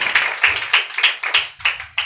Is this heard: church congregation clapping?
yes